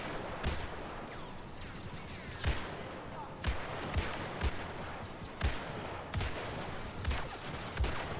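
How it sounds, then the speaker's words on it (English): Muzzle-loader musket shots from Battlefront 2 crack out at irregular intervals, roughly ten sharp reports over a busy background of game noise and faint talk. "I got infinite shots in this one-round muzzle loader."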